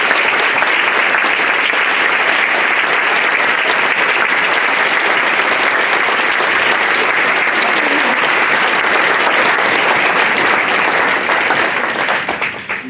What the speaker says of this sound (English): As the veterans exit, can we please give one more round of applause in recognition of their service?